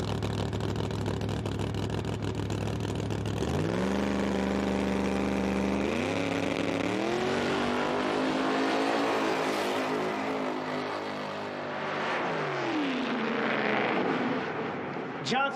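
A 1958 low-slung flat-hood Corvette drag car at an IHRA Outlaw Nitro Pro Am race in Cynthiana, Kentucky idles loudly, then its engine revs hard and screams down the track, rising in pitch through gear changes before fading off.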